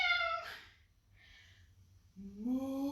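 A person imitates a cat's meow during a relaxed home stretching session, two short voiced calls with a pause between them, close and fairly loud, the second drawn out with a rising then falling pitch.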